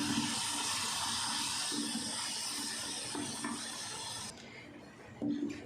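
Beef mince frying in a pan for keema karela, a steady broad hissing sizzle that fades slightly near the end, with soft intermittent stirring knocks underneath.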